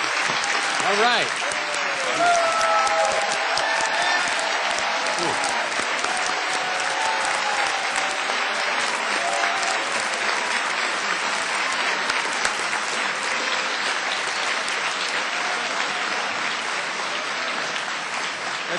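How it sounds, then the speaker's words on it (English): A big convention audience at Take Back America 2006 claps loudly and continuously, a thick wash of hands with some cheering that holds steady from start to finish, no one speaking over it. "That's a lot of applause,"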